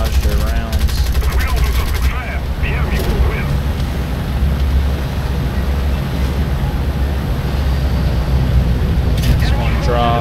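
Enemy fighter gunfire in the War Thunder air-combat game: dense, rattling bursts over a constant roar of engine and wind, steady and loud for the whole stretch, with a voice faintly present in places.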